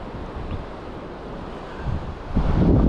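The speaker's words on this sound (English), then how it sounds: "The wind is picking up as well." Wind gusts blowing steadily across a reef while fishing, a rough, broadband rush that swells louder toward the end, with no voices.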